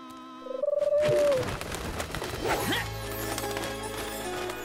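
A dove coos in soft repeated notes after a brief musical tone, with clattering and rustling noises following; no clear talk.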